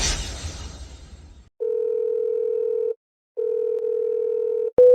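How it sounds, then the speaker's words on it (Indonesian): A telephone ringback tone sounds twice as steady buzzing pulses, each lasting over a second with a pause between, while the call goes unanswered. A brief burst of noise comes first and a click follows at the end. "Presdir Lu pasti sedang rapat, dia tidak dengar teleponnya"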